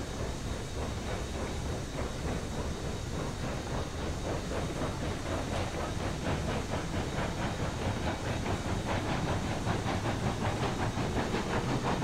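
Train carriages roll past in the Railroads Online video game, a steady broadband rumble and hiss with rhythmic clicking that builds slightly over the twelve seconds, with no talk.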